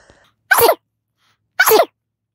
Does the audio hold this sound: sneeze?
yes